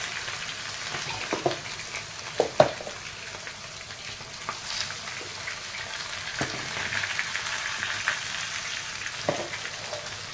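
Red spinach goes into crisp potatoes frying in a small kadhai, giving a steady oily sizzle broken by a few sharp spoon knocks and scrapes against the pan.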